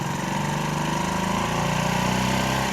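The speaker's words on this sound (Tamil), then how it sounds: "வண்டி வந்து ரன்னிங்லேயே இருக்குது." A BS6 TVS XL100 moped engine idles with a steady, even low putter, heard close and loud, with no voices over it.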